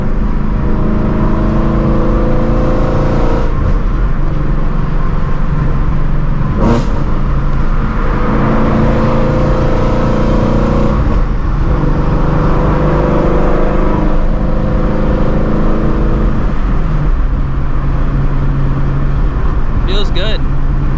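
A Shelby GT350 with a newly fitted twin disc clutch drones steadily from inside the cabin while driving, its engine note rising and falling through gear changes, with a person talking over the continuous rumble.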